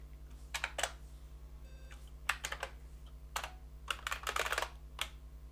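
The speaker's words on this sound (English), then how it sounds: "that is actually typing the word key" Bursts of typing on a computer keyboard during 6502 CP/M testing, several irregular clusters of keystrokes over a steady low electrical hum, close and moderately quiet.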